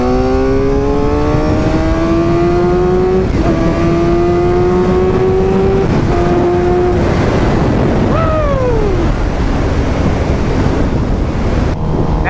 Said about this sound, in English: This is the fastest motorcycle I've ever ridden.